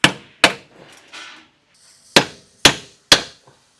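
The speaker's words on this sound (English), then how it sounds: "you can take a chisel and a hammer and break the head off the rivet" A hammer drives a chisel to break off a rivet head while a rear frame stiffener is installed on a Can-Am Defender HD11. Five sharp, ringing metal strikes land at uneven intervals, loud and close, with faint scraping between them.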